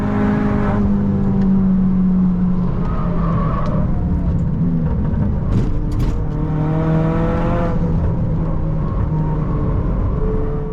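Time attack race car heading out on track at World Time Attack Challenge 2025; a steady, loud engine drone with revs climbing and shifting, plus a few brief sharp pops.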